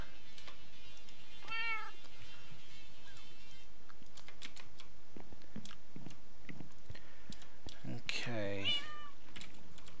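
Cat meowing inside the video game Modern Skyblock 2, heard as a few short meows early on and a louder burst near the end, mixed with keyboard typing and game sounds while a person talks.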